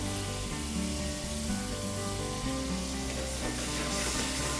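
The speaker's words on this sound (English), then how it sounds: "We're going to go ahead and add 4 ounces of our shrimp stock." Shrimp stock poured into sizzling prawns in a pan, a continuous close frying hiss with steady bubbling at an even loudness, no voices over it.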